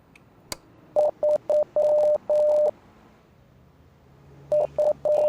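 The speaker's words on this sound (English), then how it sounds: "Oh, it's Morse code." Morse code beeps from the Rise of Insanity video game: steady tonal pulses in short and long groups, a burst of about seven beeps followed by a pause and then four more, loud and clear with no talk.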